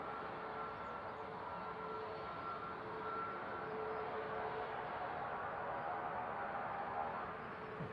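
A 12-year-old KLM Embraer 190 landing at Manchester on a flight from Amsterdam makes a steady, moderately faint jet roar that continues evenly, with no talk over it.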